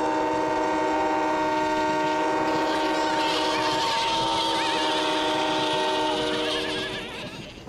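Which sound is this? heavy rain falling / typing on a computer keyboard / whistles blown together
whistles blown together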